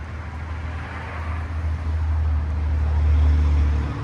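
A gray 2020 Tesla Model Y electric car drives along, heard from inside as a steady low road rumble and tire hum that builds gently, with no engine note.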